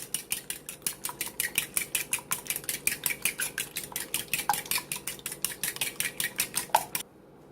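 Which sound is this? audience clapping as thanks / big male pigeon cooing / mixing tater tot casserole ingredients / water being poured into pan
mixing tater tot casserole ingredients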